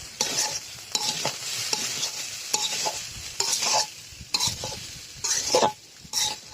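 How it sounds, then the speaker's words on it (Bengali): A spoon stirs potato bhaji frying in a pan, repeated scraping strokes in an irregular rhythm over a soft background sizzle, close and clear with no talking. "ভাজিটা বেশ সময় ধরে নাড়াচাড়া করতে হবে, তা না হলে নিচে লেগে পুড়ে যাওয়ার সম্ভাবনা আছে।"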